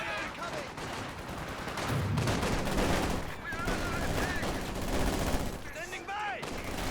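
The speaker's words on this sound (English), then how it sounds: "Big damage from the heavy mortar close range." Heavy mortar blasts and gunfire in the Company of Heroes 2 video game, dense overlapping shots and explosions rattling continuously at moderate level.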